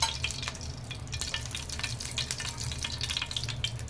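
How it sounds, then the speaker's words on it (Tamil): Oil sizzles and crackles steadily in a hot pan for the whole stretch, close and continuous with small bright spits, and no voices. "கொஞ்சமாக எண்ணெய் விட்டுக்கலாங்க."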